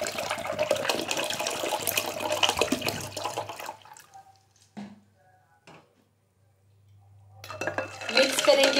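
Ice cubes and water stirred with a spoon in a bowl of raw mango (kairi) sharbat, a busy clattering swish for about four seconds, then quiet with a few small clinks before the stirring resumes near the end.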